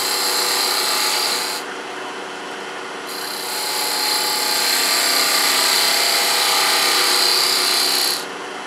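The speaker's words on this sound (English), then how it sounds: "use a half inch gouge now I cove into that middle bead" A half-inch gouge cuts a cove into the middle bead of a wooden napkin ring spinning on a lathe, giving a loud, steady scraping rasp that drops off briefly twice and then resumes.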